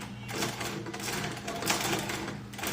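A sewing machine with a fault that skips stitches and puckers the fabric runs continuously, a close, busy rattling whir with a fast mechanical rhythm and no voices.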